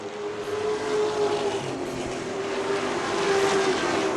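Late model stock cars race around a short oval track, their engines droning loudly and steadily as the pack roars past, with no voices over the noise.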